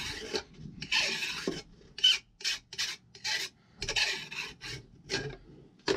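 A file rasps burrs off the outer grooves of a chainsaw bar in repeated close strokes, about a dozen short scraping passes in an uneven rhythm with brief gaps between them.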